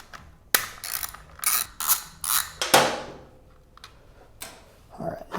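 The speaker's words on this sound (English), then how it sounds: "So get these 3 bolts off of here." Ratchet wrench loosening the servo bolts on a 2022 Ducati Streetfighter V4 SP, several quick bursts of rapid clicking separated by short pauses, close and crisp, with a small metallic clink near the end.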